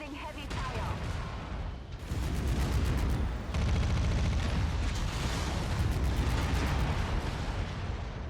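Heavy gunfire pounds a mech in a MechWarrior battle, with dense overlapping shots, blasts and rapid bursts that stay loud and continuous throughout.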